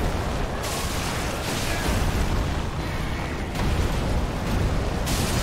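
Bombs going off in the Dark Souls 3 Cinders mod, a dense run of loud booming blasts that swell and break in bursts one after another, with no talking.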